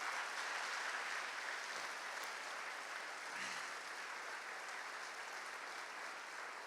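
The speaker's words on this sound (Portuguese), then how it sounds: "Dê um aplauso ao Senhor pela vida dela." A church audience applauds during a Mother's Day sermon. The steady, continuous clapping sounds faint and distant.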